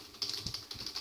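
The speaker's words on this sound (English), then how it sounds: "I'm just gonna slap a few words in here off my keyboard." Quick bursts of typing on a computer keyboard, a run of about ten light, crisp key clicks in an uneven rhythm, close and fairly quiet, with no talking.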